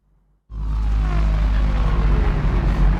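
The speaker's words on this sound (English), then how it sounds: "Out, and then there comes the long riser." A long synthesized riser from the Heavyocity Dystopia library starts abruptly after half a second of silence and swells into a loud, dense, rumbling sweep with a slowly gliding tone, sustained alone to the end.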